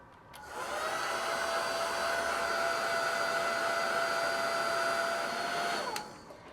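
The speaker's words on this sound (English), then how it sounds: "I will now dry this with a dryer so that it doesn't get too moist" A hair dryer blows with a steady high-pitched whine for about five seconds, switched on and off with clicks at either end.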